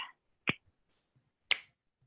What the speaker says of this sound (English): When I snap